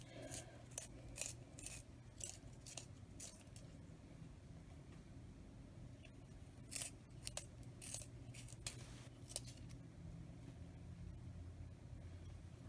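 A colored pencil is sharpened in a series of quiet, quick grinding scrapes, about a dozen short strokes in uneven bursts close by. There is no talking.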